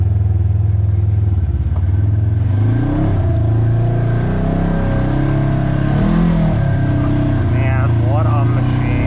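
A Polaris RZR Trail Ultimate side-by-side on Maxis Bighorn 2.0 tires runs through a swamp, its engine droning loud and close with rising revs and rattling clatter, while a voice talks over it.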